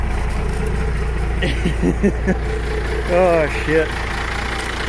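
A 12-valve Cummins diesel turning over and settling into a steady idle just after a cold start, a continuous low rumble throughout with brief speech over it.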